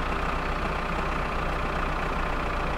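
A tractor engine idles and runs steadily in the video game My Summer Car, a continuous low, even rumble that fills the whole stretch with no talk over it.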